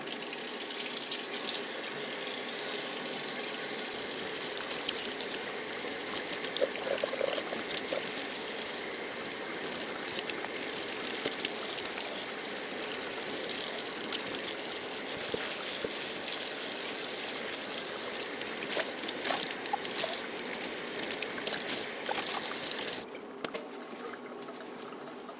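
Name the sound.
tap water washing out ice-dyed tie dye sash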